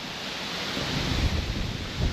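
Strong storm wind gusts by the Yantra river on a fishing outing, a steady, loud roaring rush of air that swells slightly toward the end, with no voices.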